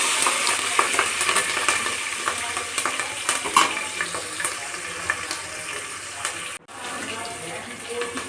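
Green chillies and curry leaves fry in hot oil for tomato rice, a close, continuous crackling sizzle with sharp pops and stirring clatter throughout, briefly dipping near the end.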